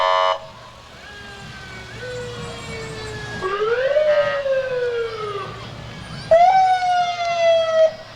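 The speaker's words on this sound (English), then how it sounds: "Hopefully those sirens are loud enough for you at home, folks." St. Clair Township Fire Department truck sirens wail loudly nearby at a July 4th parade in Hamilton, rising and falling in overlapping tones, with a deep engine rumble underneath.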